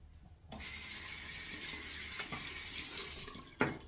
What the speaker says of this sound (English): Had to rinse that handle off.